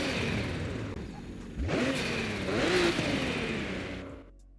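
A car engine in the Forza Horizon 5 racing game revs up twice in quick surges, rising and falling in pitch over a steady idle before cutting off abruptly.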